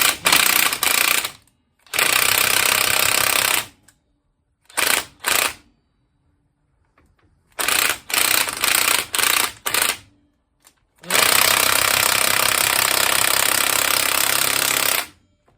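Impact wrench loosening a front strut bolt on a 2002 Acura TL Type S, loud rattling bursts that start and stop in several separate runs with quiet gaps between, the last burst long and sustained.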